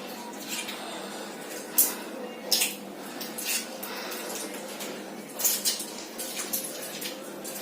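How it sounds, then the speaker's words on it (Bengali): Scaled fish get washed in a basin of water by hand, with irregular splashes, drips and sloshing bursts close by and no talk. "চলো এগুলো এখন ভালো করে ধুয়ে ভিজে রেখে দিই"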